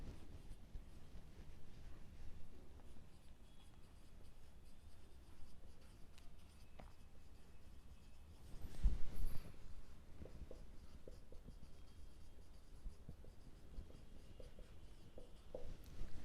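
Pen writing on paper while working through an accounting journal entry for preference share allotment, a soft continuous scratching with a brief louder burst midway, quiet and close, no talk.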